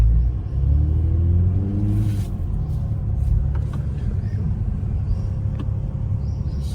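A BMW Z4 G29 sports car drives smoothly through a residential colony with a steady, loud low engine rumble and little acceleration, a brief rising engine tone near the start.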